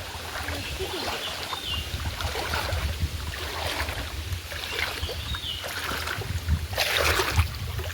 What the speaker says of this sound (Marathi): वरती वरून पाणी येतं